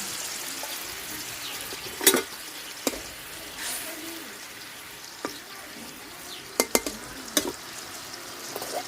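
Pabda fish curry bubbling in a kadai on the stove, a soft steady simmer with occasional sharp clinks and splashes of utensils against the pan, fairly quiet and close, no talk.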